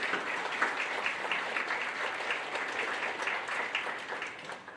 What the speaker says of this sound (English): So a round of applause for people who are sitting behind you and people who are sitting in front of you.